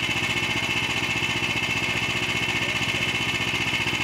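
An Ugra walk-behind tractor engine, fitted with a drive adapter, running steadily: a close, loud, rapid puttering chug with a constant buzzing rattle, even in pace for the whole stretch and without talk.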